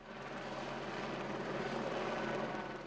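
A news helicopter hovers just above treetop level over the wreckage of a small plane that crashed into a mountainside, giving a steady, dense rotor and engine roar that fills the whole stretch at an even level.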